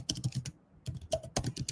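Rapid bursts of keystrokes on a computer keyboard, close and crisp, in irregular clusters with a short pause in the middle, no talking.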